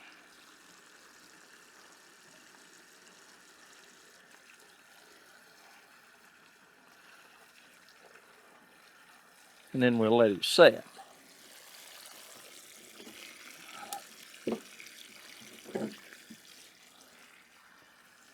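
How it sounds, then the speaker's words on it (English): Cold tap water runs steadily over freshly harvested sweet corn in a sink, a faint continuous wash with a few louder splashes and clunks, while someone talks over it. "Then we'll run this cold water on it."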